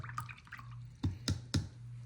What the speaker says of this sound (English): I'm going to clean my brush.